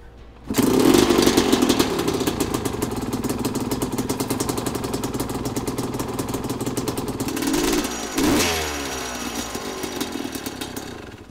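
Old dirt bike engine with the choke on kicks into life and runs loud and close, a rapid buzzy idle with revs rising briefly around the end before settling again.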